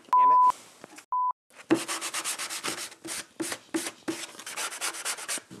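Sandpaper backed by a sanding sponge rubs briskly across wooden push-stick edges in a quick run of close, loud strokes, after a few short electronic beeps at the start.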